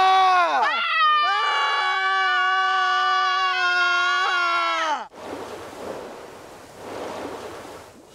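A person lets out a loud, sustained scream lasting about five seconds, the pitch rising and wavering before breaking off, followed by a rush of wind and surf noise.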